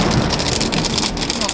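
Hail pelting the roof of a 1972 vintage RV at night in a storm, a dense, continuous clatter of hard impacts, loud and close, with no pause.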